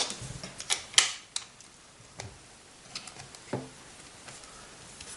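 Repaired power button on a Garmin navigator pressed several times, giving sharp, close plastic clicks spaced irregularly over a quiet background, with no talking.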